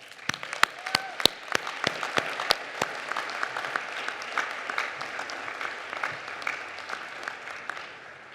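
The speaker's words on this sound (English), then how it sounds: "I think they all deserve a special round of applause" Applause for graduates at a 2024 health sciences commencement: a few sharp, close claps ring out first, then a dense, even wash of hands from the crowd carries on for several seconds at moderate volume.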